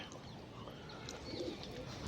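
Pigeons coo softly inside a loft, a low steady murmur that stays faint and continuous throughout, with no voices.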